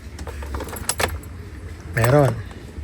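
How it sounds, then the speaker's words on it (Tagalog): A car ignition key is turned in a vehicle that starts hard from cold, giving a loud jangle of keys followed by a brief tonal warning or relay sound; there is some background talk. "Ngayon, pag inon natin yung"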